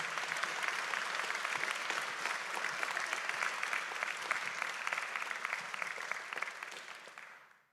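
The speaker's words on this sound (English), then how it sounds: "please give me another big round of applause for Peter Bout" Audience at a boat reveal event for a university hydrogen hydro-motion team breaks into sustained, dense applause, clapping steadily for several seconds before fading out at the end.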